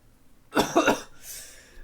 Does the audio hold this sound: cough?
yes